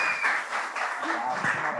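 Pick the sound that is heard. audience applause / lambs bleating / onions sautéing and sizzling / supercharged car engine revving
audience applause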